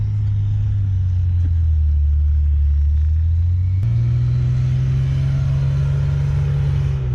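A 1985 Toyota 4Runner with a swapped newer engine drones loudly and steadily as it claws up a snowy trail off-road. The engine note steps up to a higher, sustained rev about halfway through.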